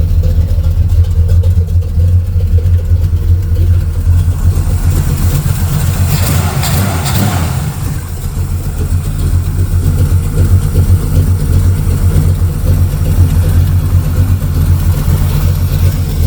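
An old Chevrolet Camaro fitted with a 670 Street Avenger carburetor idles around 600 rpm, a loud, low, steady rumble with a slight lope, a brief dip midway, and no talking.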